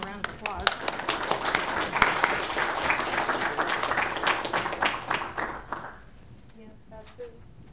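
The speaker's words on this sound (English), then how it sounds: "I'll give him a round of applause." A round of applause at a town council meeting, a small room of hands clapping steadily for about six seconds, then tapering off into quiet murmuring voices.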